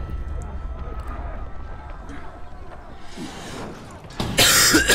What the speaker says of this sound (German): Sorry fürs Husten.